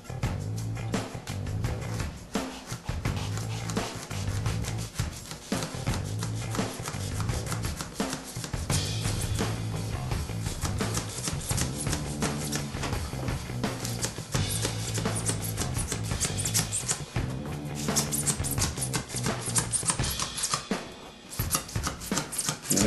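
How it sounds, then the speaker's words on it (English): Steady, rhythmic rasping strokes of a saw cutting through dense foam, close and continuous with a regular back-and-forth pattern. "sawing up and down and then cutting."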